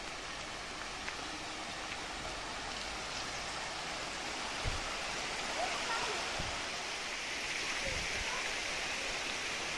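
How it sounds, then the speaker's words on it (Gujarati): Stream water flowing at Malnath, a steady broad rushing wash like a small waterfall, with a few soft low thumps under the constant flow. "કેટલું મસ્ત ઝરણું છે, પાણી છે માળનાથ."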